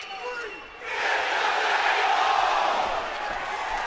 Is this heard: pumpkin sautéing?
no